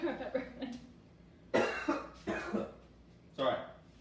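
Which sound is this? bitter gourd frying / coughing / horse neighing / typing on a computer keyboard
coughing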